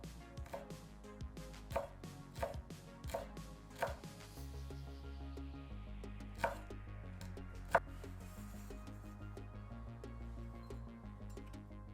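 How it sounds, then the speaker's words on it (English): A knife chops a bundle of sliced ribbons, likely vegetables for Vietnamese fried rolls, on a board: a quick run of crisp evenly spaced thuds, then two sparser chops, close and alone. "Finally, I turn the bundle of ribbons 90 degrees and chop them into roughly even pieces."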